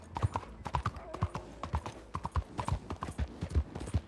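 Horse hooves clip-clop in a steady, close rhythm of repeated sharp knocks in Red Dead Redemption 2, with a brief neigh-like tone near the middle.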